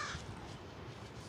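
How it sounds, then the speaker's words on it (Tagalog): A crow caws once near the start, faint against steady wind noise that fills the rest of the clip, outdoors in Canada. "Yung uwak."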